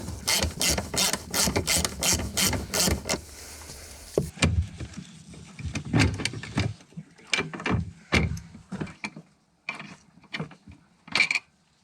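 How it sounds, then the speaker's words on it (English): A ratchet clicks in quick repeated bursts while T40 Torx bolts are loosened on the rear shock mount of a 2010 Cadillac CTS, with rapid pawl ticks at first, then slower, separate clicks and clanks, close up with no talk. "They are held in by two T40 Torx bits on either side."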